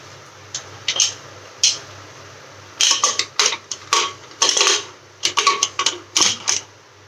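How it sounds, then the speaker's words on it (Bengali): A pressure cooker lid being fitted on over a bottle gourd and fish head curry, heard as a quick series of sharp metallic clicks and clacks, clustered in bursts, close and fairly loud, with no talking. "আমি কুকারের ঢাকনাটা লাগিয়ে দিচ্ছি"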